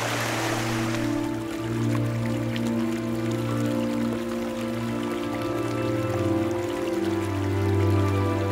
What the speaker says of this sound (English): I just found another fantastic spot here down by this babbling brook